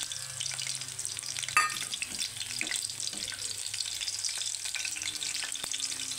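Egg yolk frying in ghee crackles and sizzles steadily up close, with faint scraping from stirring and one brief clatter, no talking.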